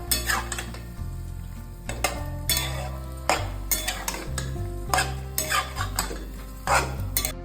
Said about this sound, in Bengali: তারপরে ভালো করে নাড়াচাড়া করে মশলাগুলোর সাথে পাস্তাটাকে মিশিয়ে নেব।